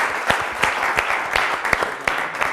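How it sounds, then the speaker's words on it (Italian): Brief burst of audience applause at a televised Italian town-versus-town quiz show, scattered loud claps in an uneven rhythm, fairly close and dense, with no talk over it. "facciamo un applauso alla Proloco di Pozzuolo"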